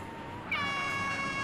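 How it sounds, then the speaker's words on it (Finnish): A truck horn in the video game GTA San Andreas blares as one sustained, tonal honk that starts abruptly and holds steady, loud against background game sound. "Niinku tuo torvihomma tööttää."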